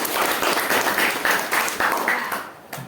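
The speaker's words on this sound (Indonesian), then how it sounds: "Tepuk tangan." Schoolchildren in a classroom clap together in a loud, rhythmic burst of roughly regular beats that slows and fades out near the end.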